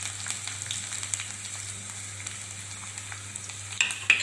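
Finely chopped garlic and ginger sauté lightly in a pan, giving a gentle steady frying hiss with faint stirring ticks and a low background hum, louder clicks near the end.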